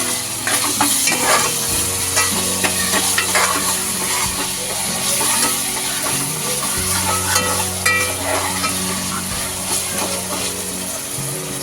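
Onion sizzling in a pan for a Konkani-style crab dish, a loud, steady frying hiss with frequent stirring scrapes and clinks of the spoon throughout.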